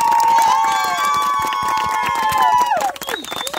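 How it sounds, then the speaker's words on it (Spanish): A crowd cheers and whoops at a final between two contestants, a loud burst of raised voices with whistle-like tones over a steady clapping patter. "un aplauso para las cuatro y para todas las bichas"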